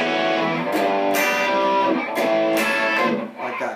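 Electric guitar strummed in a few short bursts, the high strings choked and buzzy from clumsy muting, sounding rough and uneven.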